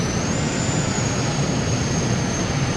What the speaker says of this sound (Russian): Самолет летит.